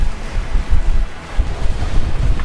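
Heavy waves slap and wash against a sailboat's hull at sea while strong wind roars across the microphone, loud, continuous and surging in uneven pulses.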